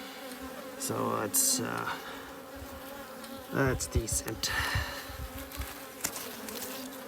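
Honey bees drone steadily in an open hive with a small brood nest, nectar and pollen, and a low worker population; someone talks intermittently over the continuous close buzz.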